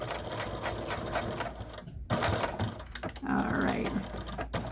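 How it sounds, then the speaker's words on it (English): Home sewing machine back stitching the adjustable belt strap of a fanny pack, a steady close whirring run of stitching that pauses briefly, then resumes at a fast even pace. "I'm just back stitching, putting extra stitches"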